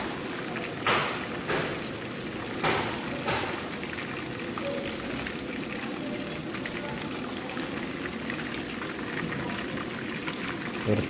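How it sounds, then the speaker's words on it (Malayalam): Chicken pieces deep-frying in hot oil in a pan give a steady bubbling, boiling crackle throughout, with a few louder spatters near the start. "രണ്ടാമത്തെ ചട്ടിയും നമ്മൾ എണ്ണയിലേക്കിട്ട് വറുത്ത് കോരി"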